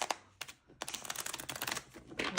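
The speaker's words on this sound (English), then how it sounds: "So I'm just going to shuffle this a few times." Tarot cards are shuffled close up in a run of quick, dry riffling clicks and soft taps that come in short bursts, fairly quiet, with no one talking.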